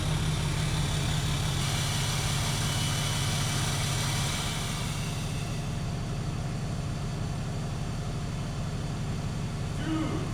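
Engine idling with a Thunder Muzzle exhaust muffler twisted closed, a steady low rumble running throughout at constant level, close by, with a hissy upper layer that thins out partway through, and no talking.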